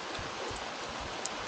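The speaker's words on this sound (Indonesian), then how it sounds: "Elok parking aje hujan." Rain falling beside a river, a faint steady hiss of drops pattering on surfaces, continuous and soft with no voices.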